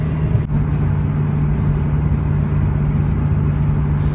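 Nissan Skyline GT-R R32 driving at steady speed, heard from inside the cabin as a continuous low engine drone and road rumble with a strong steady hum, without talk.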